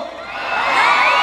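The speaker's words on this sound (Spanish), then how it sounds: "Son muchos aplausos." Large concert crowd at a show in Nicaragua cheering, whooping and shouting, a dense, loud wash of voices that swells slightly toward the end.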